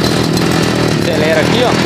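A 62cc chainsaw engine runs at a steady idle, loud and close, with someone speaking over it.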